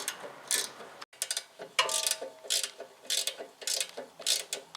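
Ratchet wrench tightening the upper bolt on a VW Golf shock absorber, a series of close, crisp clicking bursts in quick rhythmic strokes with a brief pause early on, no talking.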